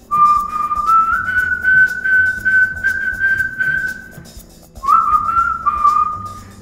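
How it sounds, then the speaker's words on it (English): A person whistles a tune close up, holding long steady notes, pausing briefly, then carrying on over faint background sounds. "And I began whistling the song."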